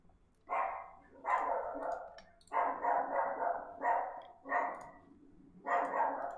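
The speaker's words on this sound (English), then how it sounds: "Actually, you can just listen to my dog in the background." A Chiweenie dog barks in the background indoors, letting out about six loud, separate bursts of barking at an irregular pace with brief pauses between them.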